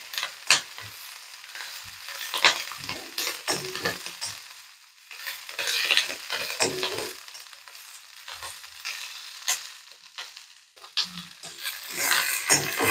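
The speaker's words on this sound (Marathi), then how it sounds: "याला असं छान परतून घेऊया 1-2 मिनिटं." Chilli mixture for thecha is stirred and sautéed in a hot pan, a steady close sizzle broken by scraping strokes of a spoon for several seconds, with no voices.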